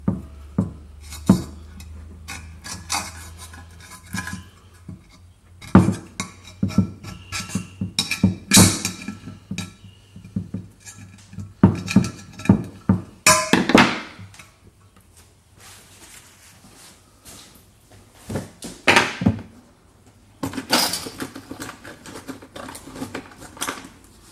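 Gasket scraper rasping old gasket material off a Jeep Liberty rear differential cover, a string of short scratchy strokes and clicks in uneven bursts, close up with pauses between.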